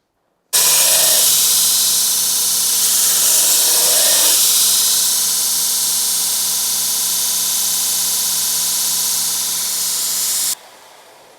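A steel bar being sanded with coarse 40-grit abrasive on a power tool gives a loud, continuous hissing grind that starts abruptly, runs steady for about ten seconds and then cuts off sharply.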